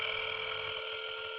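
A steady telephone dial tone hums loud and close, holding as a continuous tone with no voices.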